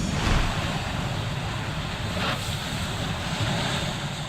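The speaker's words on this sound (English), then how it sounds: "Coastal communities in Massachusetts pounded by monster waves." Large ocean waves pound the Massachusetts coast with a continuous heavy roar of surf and wind, loud and close, with a brief swell of crashing water midway and no voices.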